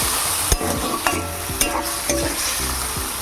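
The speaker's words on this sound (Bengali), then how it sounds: "এবার ভালো করে এসে নাড়াচাড়া করে নেব।" Potatoes, chickpeas and drumstick leaves are stirred in a sizzling pan, a close, loud frying hiss broken by repeated rhythmic scrapes of a spatula about every half second.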